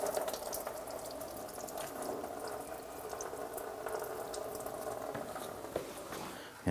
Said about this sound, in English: we do have our catch can underneath to catch this residual coolant coming out